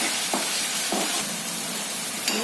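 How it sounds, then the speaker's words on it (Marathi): Crushed garlic hitting hot oil in a pan with cumin seeds, giving a steady close sizzle with a few brief sharper crackles and stirs. "आता खलबत्त्यात ठेचलेला लसूण घातला."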